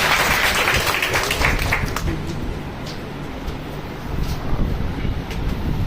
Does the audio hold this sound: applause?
yes